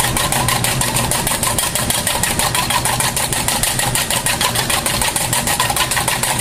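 Egg white is whisked until frothy, a fast steady rhythmic clatter of the whisk against the bowl that runs loud and unbroken throughout.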